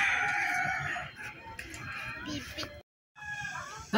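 Chickens cluck and a rooster crows nearby among farmyard fowl, with voices talking over the birds and a brief silent gap before the calls resume.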